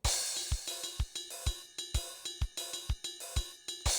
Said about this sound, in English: So we're going to hear a crash when these resolve.